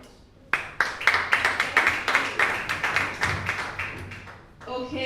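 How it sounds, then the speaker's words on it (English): Applause from an audience at an agricultural pitch competition event, a burst of dense clapping starting abruptly and sustained for several seconds before tapering, with a voice starting up at the end. "Please let's give another round of applause"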